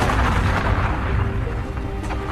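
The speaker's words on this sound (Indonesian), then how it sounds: "matanya langsung ditembak oleh sang polisi, yang membuat Luz langsung tergeletak" A loud, heavy gunshot in a film scene lands as a deep, booming blast with a rumbling tail that fills the short moment, with no voices over it.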